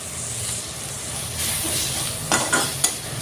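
Garlic frying in a pan for a fish dish: a continuous bright sizzle and hiss that swells midway, then a few sharp scraping stirs near the end, all close and without talking.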